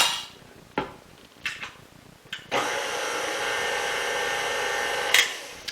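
Brownie cookie batter mixed in a bowl: a few sharp clinks of utensils against the dish, then a steady, loud whirring drone that runs almost to the end with one brief rattling knock near the finish.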